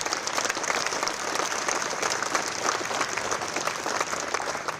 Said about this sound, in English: And that we should clap for.